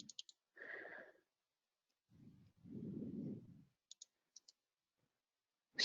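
Several short, crisp computer mouse clicks come in small clusters near the start, in the middle and at the end, separated by quiet gaps and soft breathy sounds.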